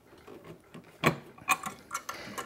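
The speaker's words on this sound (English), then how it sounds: "when you're tightening these bolts up, go all the way around" A ratchet clicks while tightening bolts on a snowmobile primary clutch, giving quiet close mechanical ticks with a few sharper clacks.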